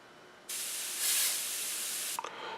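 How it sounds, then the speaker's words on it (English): Non-aerosol Tresemme hairspray misted onto a painted scale model: one continuous close spray hiss lasting about two seconds, starting abruptly and cutting off with a short sputter. "We'll go ahead and lay some hairspray down and then some more color"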